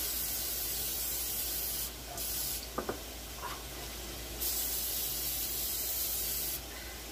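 Cooking spray hisses from a can onto a baking pan in several bursts, steady sprays broken by short pauses, with a couple of light clicks in between.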